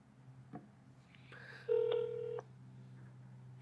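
A few short telephone dialing tones sound from a phone set down on a table, steady tones in sequence at close range over a low background hum, with a brief click at the end.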